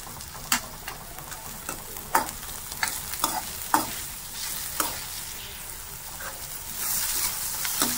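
Long-sliced onion fries over a high flame, a steady close sizzle punctuated by sharp spatula taps and stirring knocks against the pan, growing louder toward the end, with no voices.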